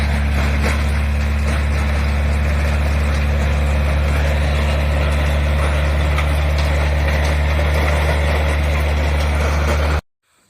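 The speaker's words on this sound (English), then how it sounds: "it's taking the weeds and it's tilling it under" A garden tiller churns dry soil and weeds with a loud, steady engine drone and rough rumble that holds for about ten seconds before cutting off abruptly.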